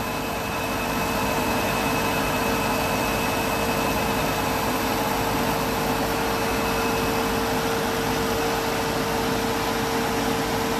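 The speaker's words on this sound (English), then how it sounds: "Recovery machine." Refrigerant recovery machine running on a 400-ton air-cooled chiller, a steady loud motor drone with constant hissing noise and a clear tonal whine, unchanging throughout with no talk.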